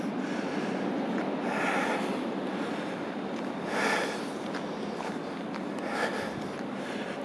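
A Stockholm-bound train idles before departure at Malmö Central Station, a steady, moderately distant rumble and hum broken by a few soft hissing bursts of air.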